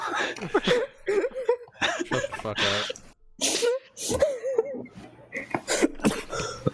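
A single sharp sneeze bursts out amid lively conversation, with several voices talking and chuckling around it, close and loud.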